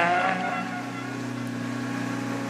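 Ford rally car on a tarmac special stage of the Rallye de France Alsace, its engine droning steadily at high revs, fairly close and then holding a sustained note as it passes.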